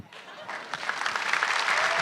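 A comedy show studio audience breaks into applause that swells quickly and holds steady as a broad, dense wash of clapping, loud and close.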